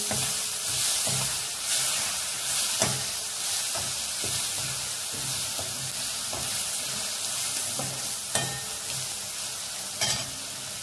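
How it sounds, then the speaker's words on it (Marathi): Finely chopped red tomatoes go into a pan of spiced dal palak khichadi, which keeps up a steady frying sizzle under repeated scraping and stirring strokes of a spoon, close by with no talk. "यात आता आपण टाकणार आहोत बारीक चिरलेले लाल टमाटे"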